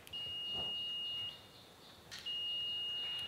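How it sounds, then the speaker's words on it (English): A multimeter in continuity mode gives two long, steady high-pitched beeps with a short gap between them, close and clear over quiet background noise. "When I put these together, you'll see this number go up and you'll hear it beep."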